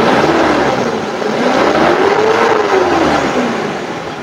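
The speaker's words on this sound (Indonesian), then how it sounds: "Coba kalau saya naikkan RPM-nya," A 1995 Mazda Vantrend station wagon engine revs up to high RPM, a loud, close whine climbing and then easing back down as the throttle is held and released.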